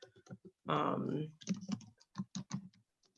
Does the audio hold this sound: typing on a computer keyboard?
yes